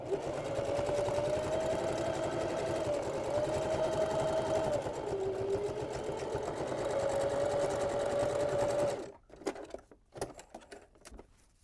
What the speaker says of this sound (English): I'll be ready to top stitch the length of each side of the strap about 1/8 of an inch from the fold